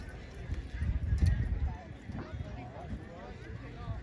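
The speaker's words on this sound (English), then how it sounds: "Beautiful horses right there." Heavy draft horses at the 2023 Fremont horse pull clip-clop in an uneven run of hoofbeats, close and moderately loud, under an announcer's voice over the arena.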